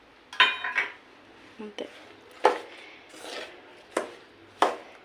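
Ravva laddu powder being mixed with dry fruits in a bowl gives a few sharp clinks and scrapes of a spoon against the vessel, spaced irregularly, with brief talk in between.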